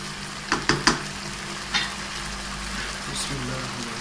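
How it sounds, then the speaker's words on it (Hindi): Oil poured into a pot of partly tender chicken simmering in milk, giving a few sharp crackles near the start and then a steady low sizzle and bubbling. "अब इसके अंदर हमने ऑयल डालना है।"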